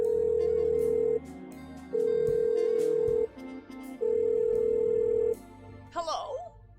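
Three long ringback tones purr in a steady rhythm for a telephone call in the video game The Blackwell Unbound, followed by a brief click and a faint voice.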